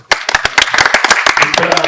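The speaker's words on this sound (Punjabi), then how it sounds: "ਇਹ ਤਾੜੀਆਂ ਮਨਵੀਰ ਬਾਈ ਦੀਆਂ ਨੇ" A small group of people claps briskly and close by during a chat-show interview, a dense burst of sharp hand claps lasting about two seconds.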